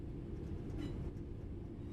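A train rumbles in the Train Sim World 5 simulator, a quiet, steady low drone with faint rolling noise and a brief brighter swell partway through.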